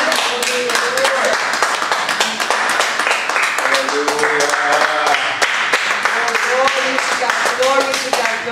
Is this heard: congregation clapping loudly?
yes